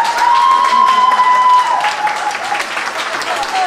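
Applause at a wedding after a champagne toast, a burst of clapping from the guests with a voice speaking over it.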